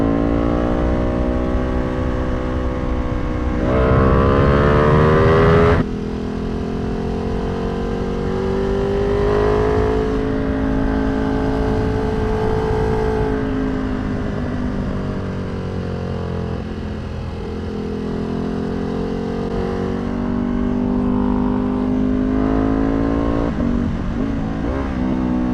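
A tuned Ducati Panigale V2 motorcycle is ridden hard on the street, its engine revving up and down through gears with sharp rises in pitch, loud and close throughout.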